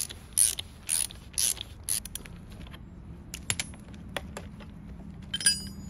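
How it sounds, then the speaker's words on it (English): A larger wrench tightens a dirt bike expansion chamber pipe part, giving a run of sharp, close metallic ratchet clicks and creaks in irregular bursts over a low background hum. "Grab it with the provided larger wrench, I don't know, whatever you want to call that, and tighten it down."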